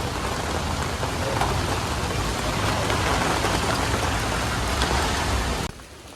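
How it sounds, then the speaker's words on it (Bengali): Heavy rain pours steadily in a Bangladeshi village, a dense, loud, continuous hiss and patter on surfaces that holds even for nearly six seconds before dropping abruptly to a quieter wash; no voices. "অনেক বৃষ্টি হইতেছে"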